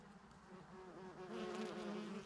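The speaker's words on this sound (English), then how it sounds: "We've got bumblebees all through it. It's deafening, sound of the bumblebees." Bumblebees buzz steadily through a cover crop field of purple-flowered vetch, a dense, continuous close drone with a few individual bees passing nearer and louder.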